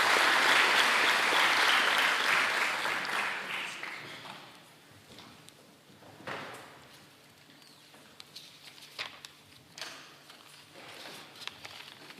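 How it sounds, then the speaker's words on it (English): Audience at a scholarship award event applauding winners walking up, strong clapping at first that fades away over several seconds, leaving scattered claps and room noise. "Let's give them a round of applause as they make their way up"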